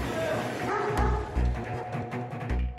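Large adult dogs shut in narrow metal cages at an illegal dog slaughterhouse in Gyeonggi Province give off repeated barks and yips, with dense overlapping calls over a constant noisy background.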